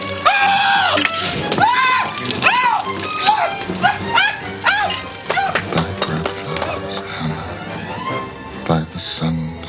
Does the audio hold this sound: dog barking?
yes